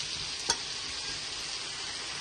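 Onions sautéing in a pan with spices, a steady soft sizzle with one brief stir or clink near the start, fairly quiet and close.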